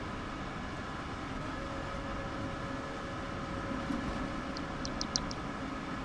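A train runs steadily in Train Sim World 6, a continuous low rumble with a faint high whine and a few brief squeaks or clicks near the end, heard on its own without talk.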